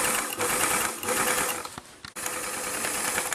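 A sewing machine stitches the fabric of a kit kimono jacket in a loud, continuous run of fast needle clatter, pausing for a split second before carrying on.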